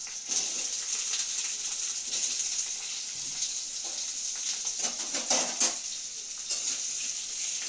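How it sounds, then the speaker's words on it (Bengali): Potatoes frying in very hot oil alongside meat in a home kitchen, a steady close sizzle with occasional stirring scrapes and a few louder crackling bursts, no talking. "এখন আমি আলুটা ভেজে নিই মাংসে।"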